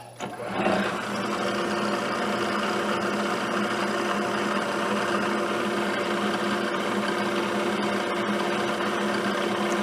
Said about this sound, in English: so now I'm just boring it out to 30 mil